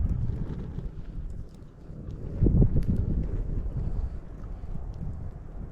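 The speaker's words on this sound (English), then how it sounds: "See the wind getting up." Wind gusting across open dry grassland beside a campfire, a steady rushing buffet against the microphone that swells briefly midway, loud and continuous with no talk.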